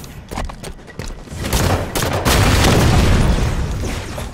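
Rocket explosions in a shooter video game, a run of sharp booms and bursts building into dense rumbling blasts, loud and close.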